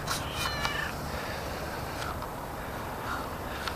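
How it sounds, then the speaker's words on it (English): A cat meows several times at close range, with drawn-out, slightly strained cries spaced across the stretch over a constant low background hum. "It's an attack cat."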